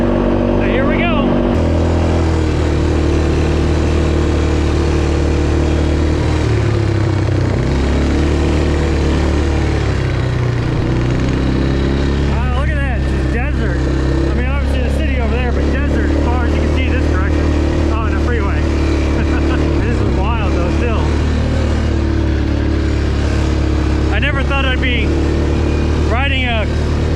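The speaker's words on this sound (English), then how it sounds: "ATV through the Sahara Desert near the pyramids." ATV engines droning steadily while riding through the Sahara Desert near the pyramids, a loud continuous motor rumble with wind buffeting, and a person talking over it.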